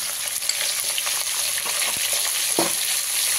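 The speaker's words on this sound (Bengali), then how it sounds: "আলুটাকে আমি ভালো করে ভেজে নিই।" Potatoes seasoned with salt and turmeric fry in a hot pan for a chicken curry, giving a continuous close sizzle broken by a few scraping stirs and no talking.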